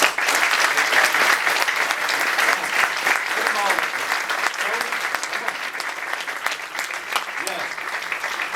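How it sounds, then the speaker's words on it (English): A crowd claps steadily and loudly for several seconds at a Board of Education meeting, a dense wash of applause with faint voices mixed in. "So we want to give her a round of applause."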